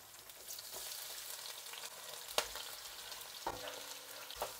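Onions and meat masala fry in a pan for deer meat chukka, a steady close sizzle with occasional sharp crackles and stirring clinks, no talking.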